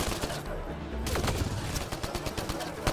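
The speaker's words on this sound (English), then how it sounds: "there's somebody shooting me with a shotgun" Shotgun fire in the Mass Effect Andromeda game, sharp repeated blasts and crackling shots that grow more frequent in the second half, mixed with other combat noise at moderate level.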